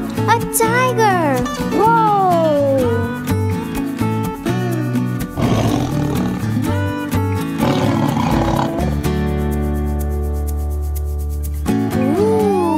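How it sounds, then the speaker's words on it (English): A cartoon tiger roars loudly several times in a children's nursery rhyme animation, long rising and falling growls over music, with a voice briefly exclaiming. "A tiger!"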